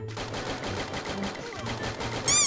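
Rapid gunfire from the Free Fire mobile shooter game, a fast burst of close, loud automatic shots in steady rhythm, ending with a sharp ringing effect.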